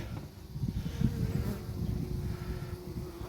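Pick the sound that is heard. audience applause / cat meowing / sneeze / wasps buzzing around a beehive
wasps buzzing around a beehive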